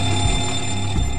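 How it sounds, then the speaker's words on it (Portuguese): Fire alarms ringing across several areas of an aircraft's cargo hold during an in-flight fire, a loud, continuous electric ringing tone that holds steady throughout with no voices. "alarmes de incêndio soam em várias áreas diferentes do porão de"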